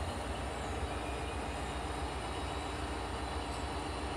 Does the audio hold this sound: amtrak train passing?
yes